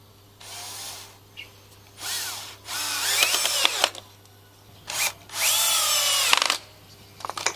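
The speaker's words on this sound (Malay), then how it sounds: "Kita akan masukkan skru lah. Kita akan skrukan dia supaya dia masuk lah." A power drill drives screws into the wood of a DIY two-tier pallet bed in several separate bursts, each a loud rising whir of a few seconds, with short pauses between them.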